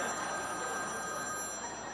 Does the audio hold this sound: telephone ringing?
yes